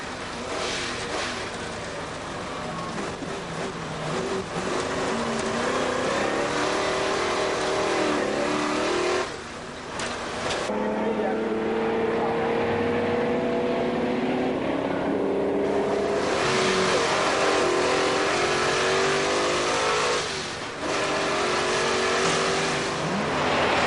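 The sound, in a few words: Ford Mustang V8 race car engine driving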